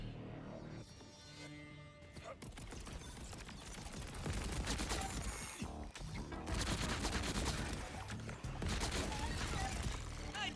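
A COV gun fires in a video game, a dense continuous barrage of rapid shots that grows louder after the first couple of seconds and keeps pounding without pause.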